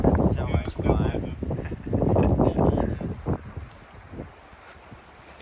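Wind gusts hit the microphone during an enduro motorcycle ride outdoors, loud buffeting bursts that come in waves and then ease off toward the end.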